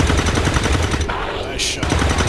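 Automatic gunfire from the XCOM 2 video game rattles out in a dense, loud burst of rapid shots, breaking briefly before another hard volley.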